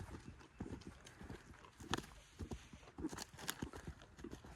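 A horse cantering on the lunge, its hoofbeats thudding in a quick, repeated three-beat rhythm, fairly close and steady throughout with faint background noise.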